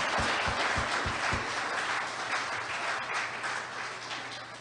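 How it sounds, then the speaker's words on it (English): Crowd applause at a political party's anniversary national conference fills the hall as a steady, dense wash of clapping, loud and sustained, with a few sharper claps standing out at the start. "they deserve your applause for that achievement"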